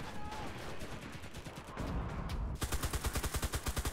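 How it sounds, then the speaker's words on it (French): Artillery strike and gunfire in the WWII shooter Enlisted during a snowstorm battle: dense crackling shots, then a loud rapid burst of regular automatic fire hammering out in the second half. "frappe d'artillerie"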